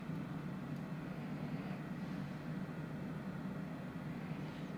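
Cessna Citation CJ4 business jet cruising in Microsoft Flight Simulator, a steady, even, low engine and airflow drone that holds constant throughout with no voices.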